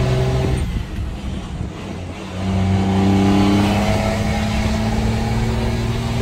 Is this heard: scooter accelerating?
yes